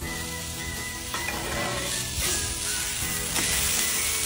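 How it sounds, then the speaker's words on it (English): A smashburger taco on a tortilla sizzles loudly and steadily on a hot grill, a dense continuous crackle with a few sharper pops, close and alone with no talk. "Now let's set it on the grill. Let's hear it sizzle."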